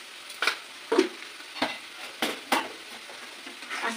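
Chicken chap with chili powder and sugar sizzling in a pan, stirred slowly in about six scraping strokes over a continuous close frying hiss, with no voices.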